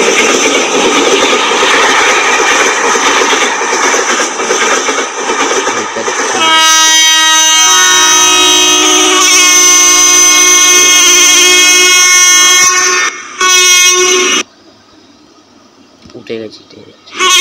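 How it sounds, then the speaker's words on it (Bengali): A passenger train pulling away from a station rumbles steadily, then gives one long, loud, sustained horn blast with a short second toot before fading into quieter rail noise. Background voices murmur throughout. "এখান থেকে ট্রেন ছাড়ছে"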